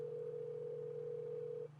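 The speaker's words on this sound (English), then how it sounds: "Let's see if we hear that telltale ringtone." A steady electronic phone ringing tone through a Ford SYNC car system, with a low hum beneath it, holding constantly for most of the clip before the upper tone cuts off.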